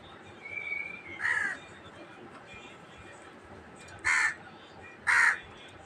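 Crows caw three times, a couple of loud harsh calls close by, separated by pauses over quiet outdoor background noise.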